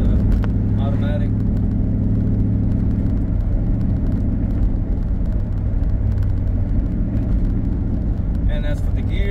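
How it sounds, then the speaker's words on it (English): A 2001 Ford Mustang GT with an automatic 4R70 transmission and deleted cat-back exhaust drones steadily with a low rumble while driving, with a voice talking over it. "like to daily drive a 2001 Ford Mustang with the 4R70 transmission, the automatic."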